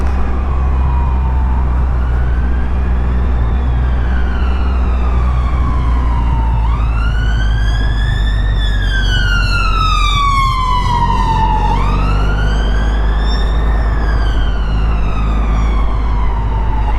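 A wailing emergency siren sweeps up and down in long cycles, growing louder as it passes on the road, over the steady low rumble of a Triumph Rocket 3 R motorcycle being ridden.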